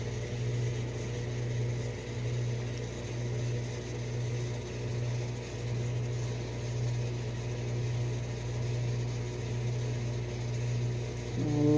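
A steady low hum of a microwave oven running during a science experiment, with something spilling inside, constant and unchanging, with no voices.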